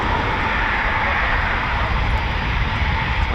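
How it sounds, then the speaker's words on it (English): A Royal Air Force Eurofighter Typhoon FGR4 jet at RAF Coningsby, its engine roar a steady, broad, loud rush that holds evenly throughout with no talk over it. "Typhoon FGR4, Royal Air Force."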